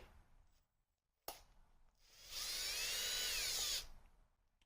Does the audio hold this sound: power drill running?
yes